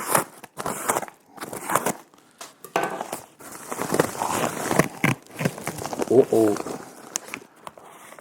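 A knife slits open the plastic packaging of a new GoPro camera's accessories, giving short, close crackling and scraping bursts among handling knocks and rustles.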